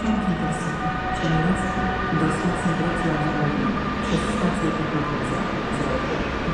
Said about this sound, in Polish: kolejny punktualny skład to pociąg siemiracki